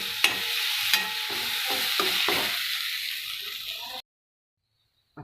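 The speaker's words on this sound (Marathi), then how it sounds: "आणि हे पण आपण छान परतून घेऊ." Ground masala with moth beans and green peas being sautéed in a pan makes close sizzling with rhythmic spoon scrapes and knocks for about four seconds, then cuts to silence before a brief return.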